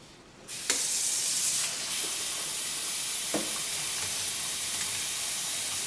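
A sharp burst of hissing steam erupts as cold water hits a hot pot, then settles into a sustained sizzling hiss with a few small pops.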